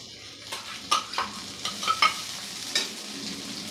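Fried onions with cumin and ginger paste sizzle in a pan for garlic-free mutton kosha, close frying hiss broken by several irregular spatula scrapes and clinks against the pan.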